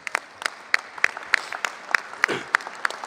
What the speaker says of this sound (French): Applaudissons chaleureusement les responsables associatifs.